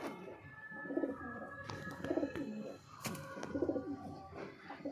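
Pigeons coo softly in a coop in Bhavnagar, with low rhythmic bursts repeating about once a second over faint background noise.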